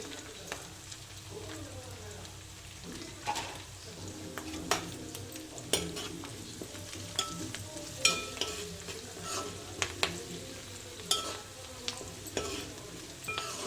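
Quiet frying in a pan after turmeric is added while cooking a bottle gourd curry, a soft steady sizzle broken by frequent stirring scrapes and clinks of a spoon against the pan.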